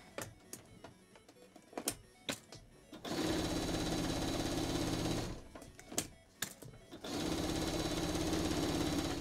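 A sewing machine stitches a quilt in two sustained bursts of rapid, steady whirring, separated by pauses filled with scattered clicks and handling knocks, close and fairly quiet.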